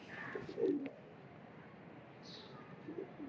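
Ferozpuri and Rampuri pigeons coo nearby in soft, low bursts, one early and another near the end, over a quiet background with faint chirps.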